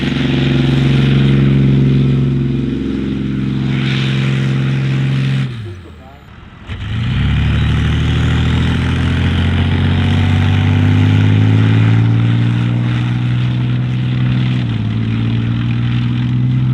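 Leopard 2A4 tank with a 12-cylinder 1500 hp engine running loud and steady, a deep harmonic drone with a brief dip in the middle before the engine note rises again, with voices heard around it.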